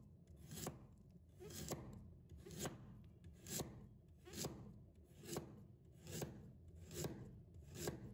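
A knife slices half a carrot on a cutting board: about nine crisp, evenly spaced chops roughly once per second, close and quiet, with no talking.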